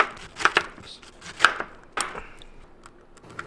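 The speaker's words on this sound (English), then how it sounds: "We're gonna cut this pineapple for the ham." A knife cuts through a pineapple with a few sharp, crisp chops and slicing crunches spaced irregularly, close and clear, with no talk over them.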